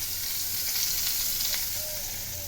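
Bitter gourd fries in hot oil with panch phoron, making a dense, continuous sizzle that stays close and loud through the whole short stretch.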